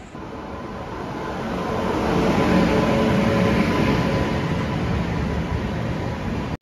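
A train rolling along the rails, with a continuous loud rumble and rattle of carriages that swells slightly midway and holds steady, heard from on board with no talking.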